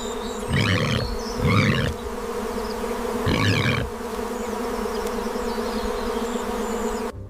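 A swarm of African honey bees buzzes steadily and close, with a droning hum that swells into several louder bursts as bees pass near.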